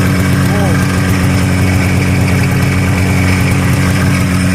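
A 1985 Yamaha Phazer snowmobile engine idles loudly and steadily nearby after a cold start, a continuous low rumble with a buzzing hum and no change in pitch.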